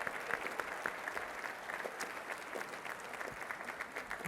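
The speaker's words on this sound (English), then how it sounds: "Yeah, that's a big round of applause." A luncheon audience applauds at a scouting fundraiser, with dense, steady clapping heard from a distance at moderate-low level.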